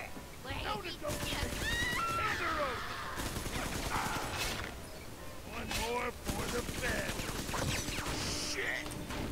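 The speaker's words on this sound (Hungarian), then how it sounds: "Igazából annyira nem szörnyű a normál lőszert is használni, legalább mindent el fogom lövöldözni." Gunfire and mechanical weapon sounds from the video game BioShock 2 come in repeated bursts and volleys, loud and close, mixed with whooshing effects and cries, while a voice talks intermittently over the action.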